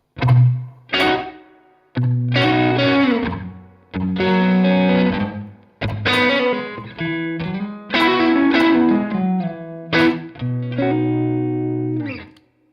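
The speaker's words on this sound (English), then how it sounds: "So quite long, dark spring reverb." Distorted electric guitar through a Victory V40 Deluxe amp plays a slow phrase of sustained notes and chords, each trailing into a long, murky spring reverb tail between pauses.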